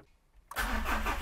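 A diesel car engine, a 200-horsepower HDi, cranks and catches after a brief quiet moment, then settles into a loud, steady diesel rumble close by.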